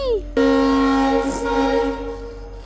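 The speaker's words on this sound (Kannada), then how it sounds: "ಪಕ್ಕದಲ್ಲೇ ರೈಲ್ವೆ ಸ್ಟೇಷನ್ ಇದ್ದ ಕಾರಣ ಸೌಂಡ್ಸ್ ಜಾಸ್ತಿ ಬರ್ತಾಯಿದೆ" A loud, sustained train horn blast from a nearby railway station rings out with a steady, droning tone, holding for a couple of seconds against a quiet background.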